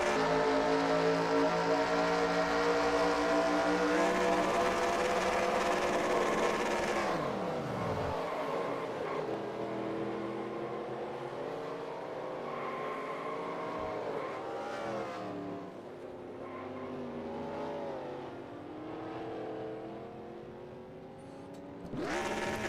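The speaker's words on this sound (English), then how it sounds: "just take a listen. You'll hear the downshift." A race car engine roars at high revs and then drops sharply as it downshifts, followed by a lower, uneven engine drone with rising and falling pitch, heard close and loud from the rear of the car.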